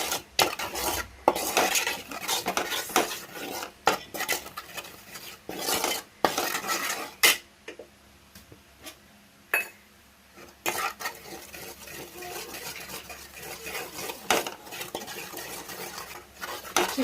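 A spoon scraping and clinking against a pan while a sweet mixture is stirred in ghee, irregular metallic strokes with soft frying beneath, a brief quieter pause midway, no talking.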